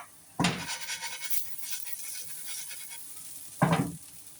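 Mustard seeds fry in a pan, a faint steady sizzle broken by two sharp bursts of crackle or stirring, one at the start and one near the end.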